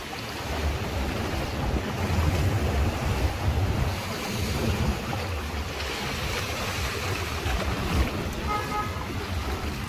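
A motorbike rides through deep flood water on a street in Dubai after heavy rain in January 2023, giving a steady, loud wash of churning water mixed with wind rumble, no voices.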